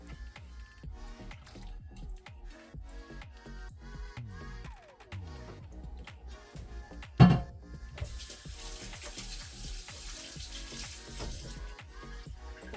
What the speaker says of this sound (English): Wash my hands after they're all slimy.